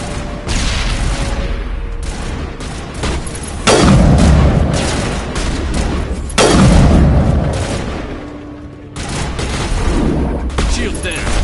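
Grenade blasts and gunfire in Mass Effect, combat with loud booming explosions near 4 and 6.5 seconds amid continuous rattling shots, with voices calling out over the fight.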